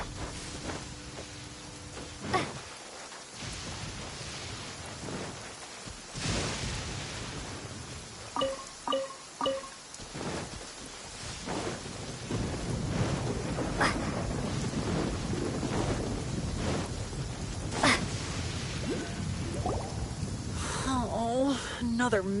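Thunderstorm with rain in Genshin Impact, a steady rain hiss with rumbling thunder and wind swelling in the second half, heard alongside game sound effects, chimes and character speech.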